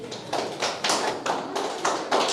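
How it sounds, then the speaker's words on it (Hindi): Rhythmic bursts of clapping from a crowd at the inauguration of the Abo Tani Clan Organization's office and hall in Naharlagun, rising and falling in about six quick waves. "जोरदार तालियां हो जाए अबोतनी क्लब ऑर्गेनाइज तालियां हो जाए"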